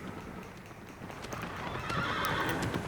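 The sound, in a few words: horse neighing in Shadow of the Colossus video game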